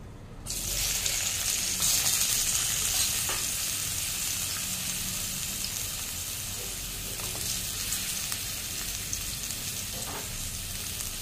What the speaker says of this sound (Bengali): এবার আমি পটলগুলো ছেড়ে দেবো।